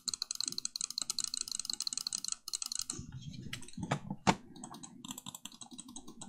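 Clicks from a Lamzu Atlantis Mini mouse fitted with Japanese switches: a run of quick, crisp, closely spaced taps, then a few sparser, sharper clicks, heard up close against quiet background noise.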